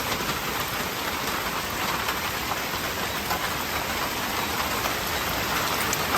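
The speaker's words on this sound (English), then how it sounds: "I'm glad to see the rain come." Steady rain pours down on a Jamaican farm, a dense, even hiss of drops on surfaces that holds constant throughout, close and fairly loud with no one speaking.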